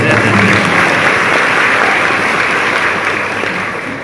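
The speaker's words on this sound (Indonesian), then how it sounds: "Tepuk tangan." An audience at a university anniversary lecture breaks into dense, sustained applause, a steady roar of clapping that slowly tapers near the end.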